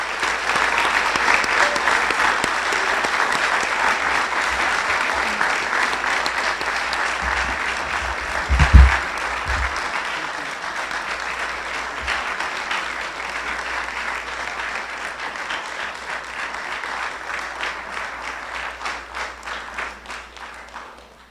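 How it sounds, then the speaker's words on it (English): A civic audience at a Town of Miami Lakes event gives a long round of applause for a design group, dense clapping sustained for over twenty seconds with a brief louder thump midway and a gradual fade at the end. "give a huge round of applause for Fantasy Designers"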